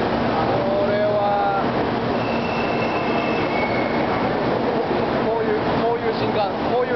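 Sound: Shinkansen bullet train at Shin-Osaka station

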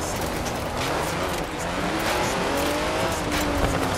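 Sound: car with drift tyres driving, video game Forza Horizon 4

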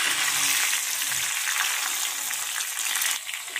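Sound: onion frying with crushed garlic in a pan

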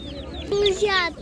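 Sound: chickens clucking at an animal market

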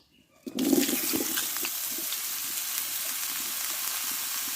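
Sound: pouring fried spices and oil onto mangoes for pickle

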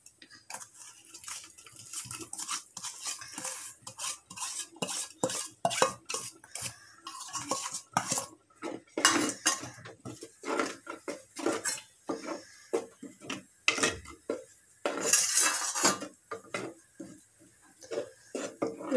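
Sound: stirring jaggery into payasam in a clay pot

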